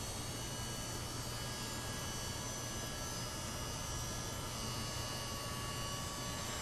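A heat gun runs continuously at a workbench, producing a steady, even blowing roar with a low motor hum that holds unchanged from start to finish.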